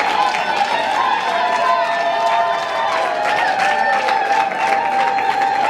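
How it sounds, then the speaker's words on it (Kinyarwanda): Applause and cheering from a wedding crowd as young men enter the ceremony, a steady dense wash of clapping and voices with music-like tones running through it. "reka dukoma amashyi menshi ku bw'abo basore binjiye"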